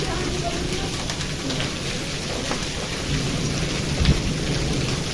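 A downpour of rain and hail in a summer windstorm hammers steadily on a hard surface, with a brief louder thud of impacts near the end; dense and close throughout.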